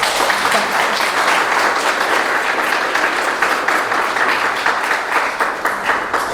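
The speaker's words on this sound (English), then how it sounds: "So big round of applause." A big round of applause from an audience at a graduation scholarship program event, loud dense clapping from many people, continuous and even for the full stretch without any speech.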